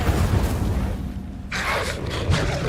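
In Hogwarts Legacy, an Incendio fire spell goes off with a booming whoosh that erupts midway and rolls on as a bright, crackling burst over low rumbling game ambience.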